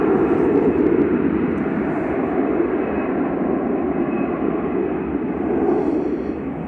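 An EasyJet airliner departs Manchester Airport with a loud, broad jet roar that holds steady and then swells slightly near the end, close and continuous with no talk.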